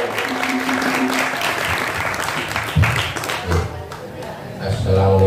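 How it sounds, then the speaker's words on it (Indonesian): An audience at a Heroes' Day gathering applauds, a dense burst of clapping that fills most of the moment before fading out, with voices around it. "Aplaus yang meriah buat beliau."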